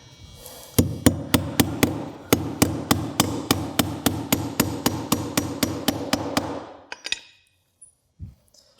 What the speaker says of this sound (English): go ahead and get our joist hanger nails in here